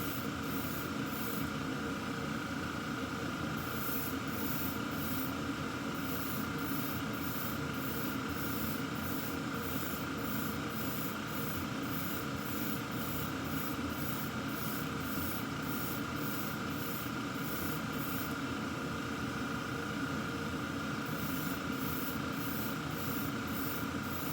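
Steady airbrush spray hiss runs continuously as paint goes onto smaller parts of a build, close and even, with faint rhythmic high ticking in places and no talking.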